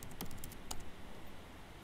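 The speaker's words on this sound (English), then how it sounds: "I'll type GoDep go test" Typing a short command on a computer keyboard: a quick cluster of a few crisp key clicks, then a single final tap, faint and close over quiet room noise.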